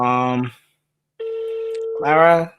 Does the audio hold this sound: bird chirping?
no